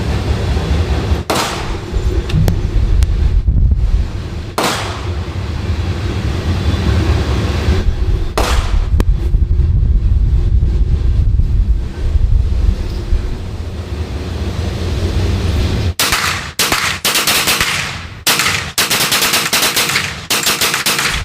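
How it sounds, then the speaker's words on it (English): Rapid bursts of gunfire emptying a whole magazine at an outdoor range, loud and sharp, with several long strings of shots separated by short pauses over wind noise. "I just wanted to go rapid fire and enjoy it"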